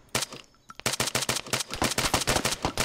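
Rapid automatic gunfire from the military shooter game Arma 3 crackles in a dense, continuous burst after a brief opening shot, loud and close with no talk over it.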